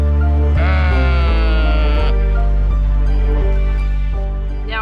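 Loud, close sheep bleating, several overlapping wavering calls in quick succession.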